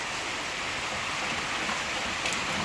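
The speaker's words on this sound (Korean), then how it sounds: "와, 비는 계속 오는데 이쪽은 해가 떴습니다." Rain falls steadily on a countryside house yard in the Jinan mountains during a summer heat wave, a dense even hiss of drops that stays loud and constant throughout, with no talking.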